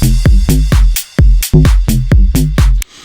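Bass house track built in Ableton, with a plucky Serum bass and punchy drums playing a steady four-on-the-floor pattern. Loud, rhythmic hits repeat about every quarter second, with no voices.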